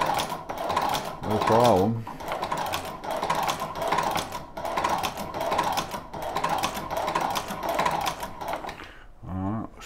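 A Chinese leather shoe patching machine stitches through two layers of 7/8 ounce leather with fast, even mechanical clacking in steady bursts, moderately close, while a person speaks briefly over it.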